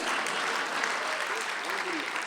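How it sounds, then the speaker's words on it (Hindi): An audience claps steadily at an Independence Day poetry gathering, a dense, continuous wash of many hands that stays loud and even throughout. "शायद अब ताली बजें"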